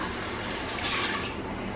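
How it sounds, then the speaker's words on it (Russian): Water pours steadily into a multicooker nearby, a continuous splashing, gurgling rush that fills the whole short moment. "Наливаю воду в мультиварку."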